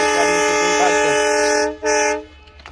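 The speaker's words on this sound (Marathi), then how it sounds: "गाडीचं हॉर्न आला आहे" A loud, sustained train horn blares, breaking off briefly and then sounding again before fading out.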